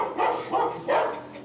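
A dog barks three times in a loose rhythm at a roadside stop in Peru where many animals are kept, the barks mid-distance and moderately loud with no talk over them.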